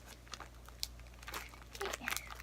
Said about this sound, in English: just put them in a gallon-sized Ziploc baggie, roll out all of the air